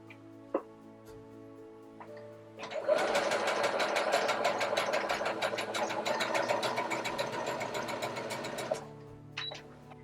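A sewing machine stitches a wide zigzag, starting after a few faint clicks and running as a fast, steady mechanical rattle for about six seconds before stopping, followed by a couple of soft clicks.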